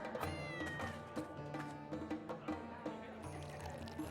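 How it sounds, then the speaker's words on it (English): A cat meows inside the online role-playing game Vanguard, a few short in-game cries over a busy bed of game music and ambient effects, with a faint trickling, water-like sound in the background. "Cat."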